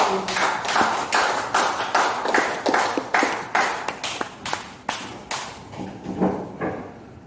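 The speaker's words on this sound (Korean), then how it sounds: "우리 큰 박수로 감사드립니다." Sparse, distinct handclaps from a small audience at a memorial lecture, about two claps per second in an uneven rhythm that slowly tapers, with no voices.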